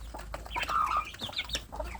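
Young village chickens about two months old, raised free-range by a small-scale farmer, cluck and chirp in a continuous close chatter, with several overlapping calls and a steady low hum underneath.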